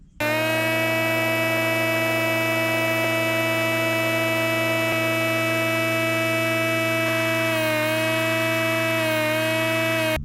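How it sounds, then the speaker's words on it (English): A portable air compressor reinflates a 4WD tyre, a loud steady electric hum with a constant motor drone that shifts pitch slightly toward the end. "Now we're going to reinflate the tyre back to about"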